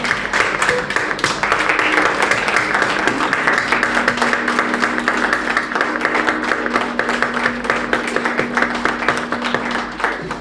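A standing audience claps at a condolence reference gathering, a dense, even wash of applause held throughout, with a steady tonal hum beneath it.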